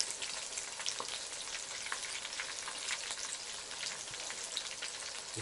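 Fish sizzling steadily in a frying pan, a dense crackling hiss with scattered pops running the whole time, fairly close, with no voices.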